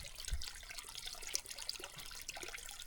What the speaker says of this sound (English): We have water coming in.